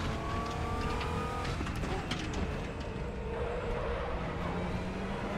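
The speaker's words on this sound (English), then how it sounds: "Hearing the dirt getting kicked up under the car." A GT4 race car in the RaceRoom racing game drives over dirt, its engine droning steadily beneath a continuous gritty rush of kicked-up debris, close and unbroken for the whole stretch.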